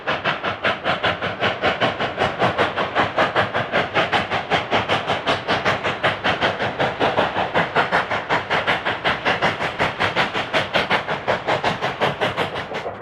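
Cumbres & Toltec Scenic Railroad locomotives rounding the left-hand curve toward Dalton Crossing, a steady rhythmic chuffing and clatter holding an even level throughout, with wind-blown hiss in the background and no voices.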